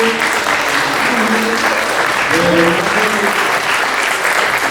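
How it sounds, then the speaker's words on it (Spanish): A large conference audience bursts into sustained applause at the close of a history talk, the dense clapping steady and loud throughout, with some voices mixed into the crowd. "solo nos queda un gran aplauso para"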